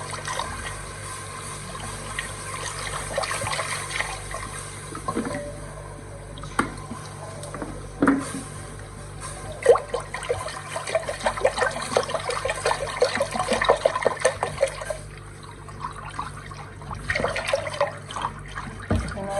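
About one and a half litres of milk poured gradually into a pot of oil-browned flour while stirring for béchamel, a continuous liquid trickle and splashing with scattered clinks and scrapes of the spoon, close and moderate, no speech.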